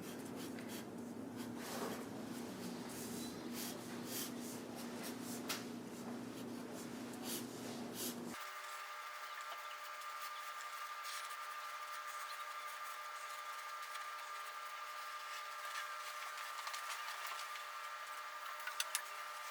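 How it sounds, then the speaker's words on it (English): Marker drawing on paper for an art lesson, a soft, continuous scratchy squeak of felt tip strokes, close and quiet, with a faint background hum and no talk. "I'm doing it in marker so that you can see it better from at home."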